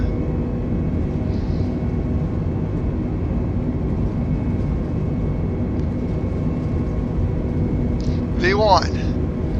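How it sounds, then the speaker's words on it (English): Airbus A320 jet engines spooling up in Microsoft Flight Simulator, a steady loud broadband roar and rumble filling the cabin, with a short rising whine and a faint voice near the end. "get these old engines spooled up one more time"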